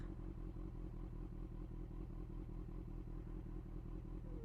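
A motorcycle being ridden on a road in Malaysia, a steady close engine drone with rhythmic low thumping throughout.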